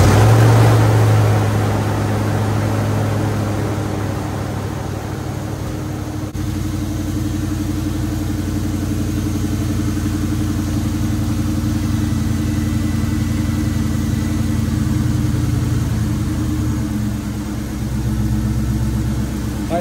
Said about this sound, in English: You're gonna wanna start your vehicle and turn your AC on to max cool